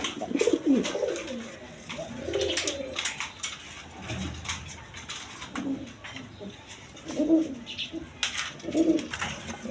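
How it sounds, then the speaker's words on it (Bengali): Two male Garra pigeons of mixed colour, offered for sale, give repeated rolling coos in separate bursts across the stretch, fairly close and clear over light background noise, with no voices. "এখানে দুইটা মিলি কালারের গররা কবুতরের নর আছে"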